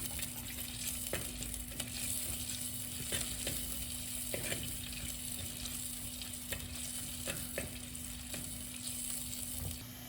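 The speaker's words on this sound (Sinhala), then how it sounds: "ඊට පස්සේ ලුණු සුදු ලුණු එකතු කරනවා. මේ ටික බැදෙන්න දෙන්න ඕනේ." Onions and garlic frying in a pan for Sri Lankan dhal mallum, a soft continuous sizzle with regular scraping and stirring taps, close and fairly quiet with no voices.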